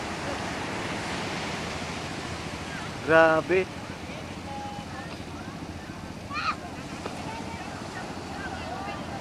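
Steady roar of strong surf and wind at a beach in San Felipe, Zambales, fills the whole clip, with someone briefly speaking over the rushing sea.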